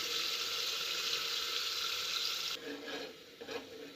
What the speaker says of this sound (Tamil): ஸோ இது வந்து நல்லா சாட்டே ஆகட்டும். ஆயிலில் நல்லா வதங்கட்டும், அதோட பச்சை வாசனை போகிற வரைக்கும்.